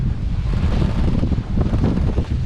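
Strong southern wind at sea aboard a sailboat nearing a bay, a steady dense roar buffeting the microphone with rushing water beneath, loud and continuous without pause.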